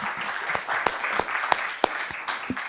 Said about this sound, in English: let's at least give Fred a round of applause